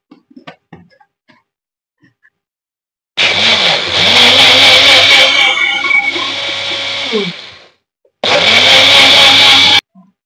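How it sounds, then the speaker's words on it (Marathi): A mixer grinder whirs loudly in two bursts, blending thandai premix with milk and sugar; the motor runs about five seconds, pauses briefly, then runs again, with small clicks before it starts. "मिक्सरला फिरवून घ्यायचंय."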